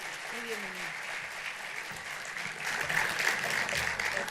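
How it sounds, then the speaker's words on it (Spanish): An audience gives warm applause welcoming pastor Gilberto Rocha, steady clapping that builds louder in the second half while a voice speaks over it early on. "lo vamos a recibir con un fuerte, caluroso aplauso"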